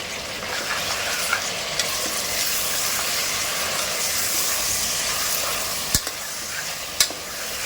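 Steady loud sizzling of mutton frying with ginger, garlic and spices in a pan, with occasional clinks of a spoon stirring against the metal.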